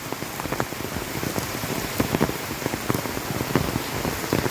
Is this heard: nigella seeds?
no